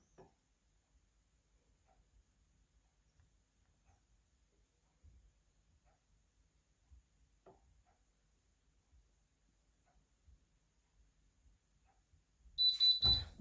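A heat press timer beeps in a short, bright burst at the very end, after a long stretch of near silence with only faint handling noises during a T-shirt flocking job.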